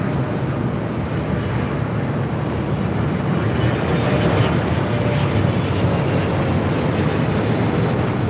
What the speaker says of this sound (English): This is Turkish Airlines Flight 179 coming in from Istanbul on a 777-300ER.